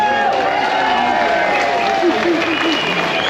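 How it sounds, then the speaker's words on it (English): A crowd at an outdoor London rally applauds with dense, loud, continuous clapping that holds steady, with some cheering and a voice speaking over it. "I think they deserve a massive round of applause"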